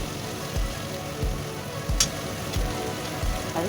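Mutton curry with ginger, garlic and green chilli paste sizzles and spatters in a pan as it is stir-fried, a steady crackling hiss with periodic low scraping stirs, close and alone.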